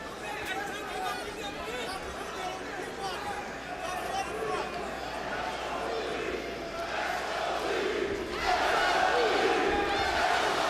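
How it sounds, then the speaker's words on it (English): A boxing crowd roars at Mandalay Bay in Las Vegas during Ward vs Kovalev II, a dense, continuous wall of cheering and shouting that swells louder toward the end. "the crowd cheer from around the Mandalay Bay as again they target the body area"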